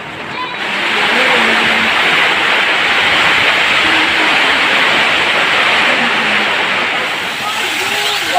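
Heavy rain pours steadily with gusty wind in a rural yard where a cow is tethered, a loud, dense wash of noise that holds for several seconds with faint voices underneath.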